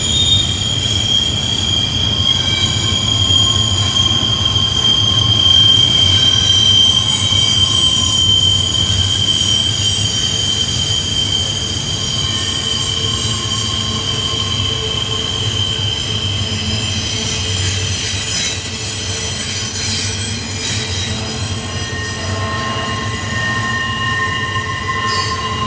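A long coal train with six locomotives eases downhill around Horseshoe Curve in Pennsylvania, wheels squealing steadily against the rails over a continuous low rumble of cars rolling past, loud and close throughout.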